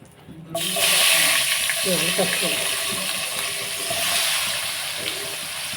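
Onions and green chillies hit hot oil in a pan, setting off a loud, sudden sizzle that keeps up as a steady frying hiss with a few clinks.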